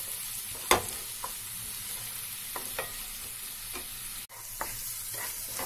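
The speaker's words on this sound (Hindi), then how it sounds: "जिंजर गार्लिक को हम 2 मिनट तक अच्छे से भून लेंगे।" Ginger and garlic sizzling steadily in a pan for chicken bhuna masala, with periodic spatula scrapes and taps against the pan over the constant frying hiss.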